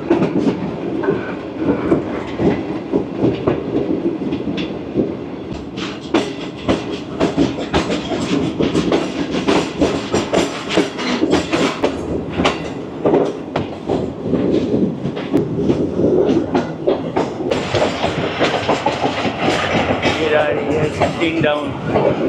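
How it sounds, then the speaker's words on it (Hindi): The Karachi Express, a passenger train bound for Karachi, runs on rails with continuous loud rhythmic clickety-clack and rumbling, heard close and steady throughout without pause. "डाउन कराची एक्सप्रेस रोड़ी से निकली है और मंजिल है इसकी कराची।"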